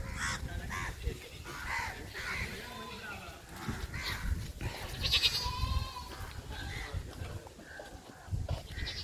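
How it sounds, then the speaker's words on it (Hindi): Young goats at an animal market in Patna city bleat in short, wavering cries close by. People talk steadily over a busy, noisy background. "मतलब बकरी है"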